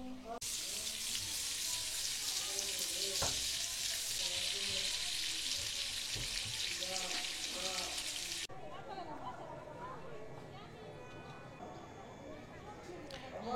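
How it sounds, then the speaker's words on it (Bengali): Large prawns and a big piece of boal fish belly fry in oil with a steady, loud sizzle that stops abruptly after about eight seconds, leaving quieter kitchen clatter and background voices. "হিউজ লার্জ চিংড়ি ভাজা হচ্ছে, আর আমাদের সেই মনস্টার সাইজের বোয়াল মাছের পেটি ভাজা হয়েছে।"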